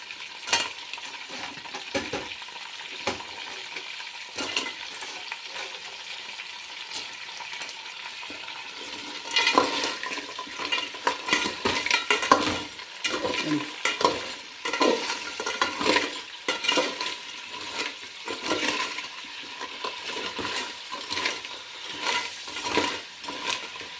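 Crab frying in hot oil gives a steady crackling sizzle throughout, growing louder and busier partway through with stirring and occasional utensil scrapes, close and without talk.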